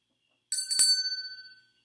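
One small bell rings once, bright and close, in a quiet room. The ring decays quickly with a short shimmering tail and fades out within about a second.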